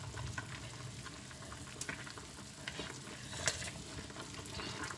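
Fish frying in a pan for a hot and spicy fried fish dish, a steady close sizzle with occasional sharp crackles and pops, no talking.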